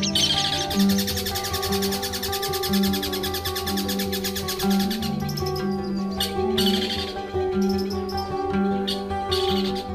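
A young long-tailed shrike, under six months old, sings a loud, continuous stream of varied chirps and warbles close by, alone with no talking.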